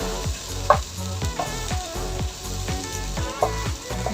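Sliced hotdog and potatoes fry in a pan, a steady close sizzle punctuated by several sharp scrapes and knocks of a utensil turning the food, without voices.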